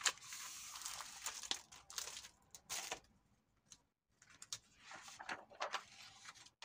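Crinkly plastic being handled close up, bursts of rustling and sliding separated by a brief quiet pause, no talking.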